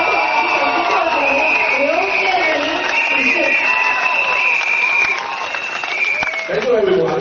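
A rally crowd applauds and cheers for candidates in the Choa Chu Kang GRC election campaign, a steady, dense wash of clapping mixed with music and voices that dips briefly near the end before swelling again.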